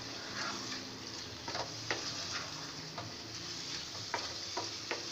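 Chicken karahi is stirred in a cooking pan, giving a steady faint sizzle with light scraping and scattered ticks of the spoon against the metal, heard close and alone.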